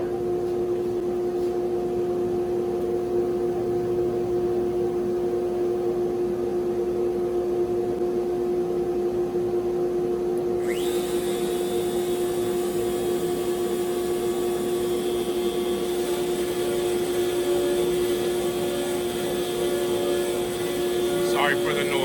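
An X-Carve CNC machine carving scrap wood into candle holders gives off a continuous droning hum with a steady motor whine, and a higher cutting tone joins partway through; loud and close throughout.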